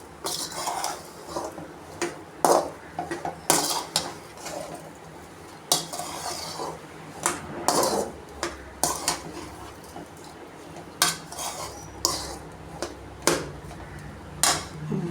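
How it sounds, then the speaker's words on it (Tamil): Sugar and grated coconut are mixed in a dish for a traditional Tamil sweet, with repeated scraping clinks of a utensil against the dish in an irregular rhythm, close and fairly clear. "அந்த ஈட்டிலே சர்க்கரையை போட்டோன்னே நல்லா மிக்ஸ் ஆகிடும் தேங்காய் துருவலையும் போட்டு நல்லா மிக்ஸ் பண்ணிக்கணும்"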